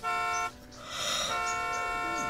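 A car horn toots in the video game The Sims: a loud, sustained tone, a brief gap, then a second longer blast.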